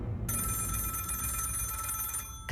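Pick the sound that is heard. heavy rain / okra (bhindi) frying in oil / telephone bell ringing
telephone bell ringing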